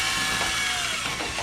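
Drilling into a plastic Nerf Barricade RV-10 blaster with an oversized drill bit, a steady close whirring grind that runs continuously with slight dips in intensity.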